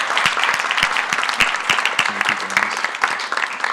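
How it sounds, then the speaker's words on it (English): Brief burst of applause from a conference audience after a policy roundtable on asthma, dense clapping with individual sharp claps audible, fairly close and steady throughout. "Can I ask for a round of applause for our fantastic policy roundtable?"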